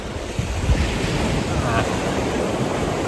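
Sea waves breaking on the shore near Sandsend on the Yorkshire coast, a loud continuous wash of surf with a few louder surges and heavy wind buffeting the microphone.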